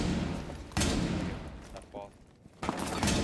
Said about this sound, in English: No, it's two shots. Two shots with that gun